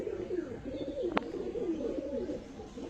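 Andra Phulshira pigeons coo softly in a loft, low murmuring calls rolling on over a hum, with one sharp brief click partway through.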